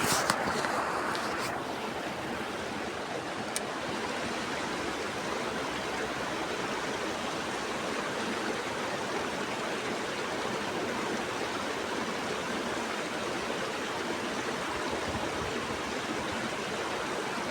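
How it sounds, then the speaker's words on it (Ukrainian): Steady rushing river water flows continuously, a broad even wash of sound with no breaks, heard close by. "піднялась вода в річці, річка ожила, це точно."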